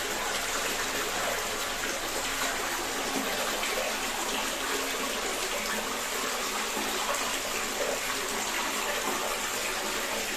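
Steady water gushes and splashes into a stone trough at an old holy well, a continuous close pouring sound with no talking.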